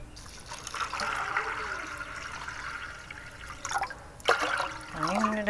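Water poured into a pot of washed, soaked chana dal in a home kitchen, a steady splashing pour lasting several seconds, briefly pausing and then resuming, close and moderately loud with no talking.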